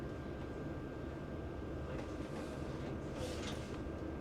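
A Czech Railjet passenger train pulls out of Vienna main station, heard from inside a business-class compartment as a faint, steady low rumble with soft wheel and carriage noises.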